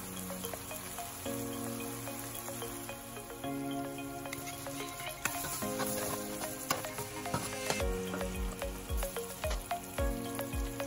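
Spices frying in hot oil in a pot while making du riz jardinier: a steady close sizzle with crackles and pops, broken by occasional clinks and scrapes of stirring, no speech.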